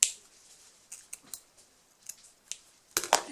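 Scissors cut cardboard for a DIY cat toy with a few sparse, crisp close snips and clicks, the last two louder, over near silence.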